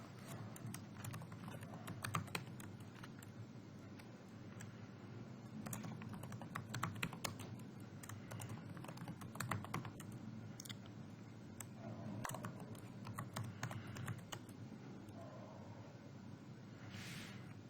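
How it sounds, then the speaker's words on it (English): Steady keyboard typing on a computer while entering a street address into an online account sign-up form, soft clicks running continuously at low level with no one talking. "type in the address"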